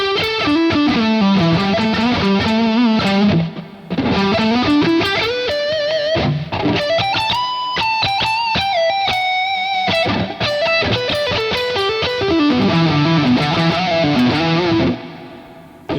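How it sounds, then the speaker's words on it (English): Electric guitar lead played through compression with a dry, upfront tone and little reverb, sustained distorted notes bending and sliding in a continuous expressive phrase, loud and alone. "I like that the guitar's drier and up front"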